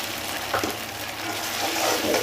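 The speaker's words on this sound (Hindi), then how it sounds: "अब इसके बाद में हम डाल रहे हैं टमाटर की ग्रेवी।" Tomato gravy hitting a hot pan of fried garlic and onion, giving a continuous loud sizzle with a couple of brief stirring scrapes and no voices.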